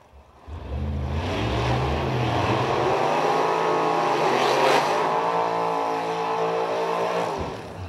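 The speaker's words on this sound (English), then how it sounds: "Reggie Richard from Baton Rouge, Louisiana, the 1970 Camaro with that big 582 inch nitrous engine" Drag racing cars revving in the staging lanes at a Lights Out event, among them a Mustang and a 1970 Camaro with a 582-cubic-inch nitrous engine; a loud, close, sustained roar rises, holds, then drops.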